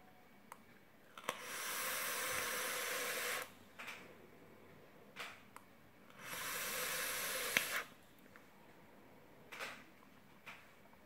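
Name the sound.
vape dripper coil crackling and hissing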